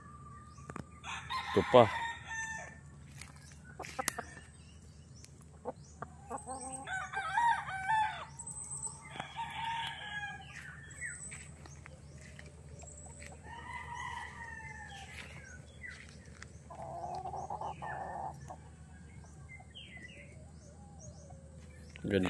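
Roosters at a game farm crow in repeated calls, some near and loud, others farther off, with scattered clucks and chirps in between and brief talk from a man.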